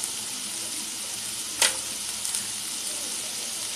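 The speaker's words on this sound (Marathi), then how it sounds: "आता मी मिरच्या टाकते आहे." Four finely chopped green chilies dropped into hot oil with onions for okra bhaji, a constant crackling sizzle with one sharp spitting burst partway through and a smaller flare shortly after.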